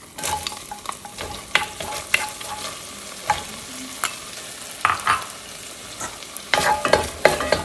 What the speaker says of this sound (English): so now we're gonna add in our onions